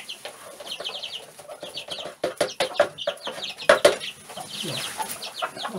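Several chickens cluck and squawk nearby in busy, overlapping bursts, with a few sharp wing flaps and a faint voice now and then.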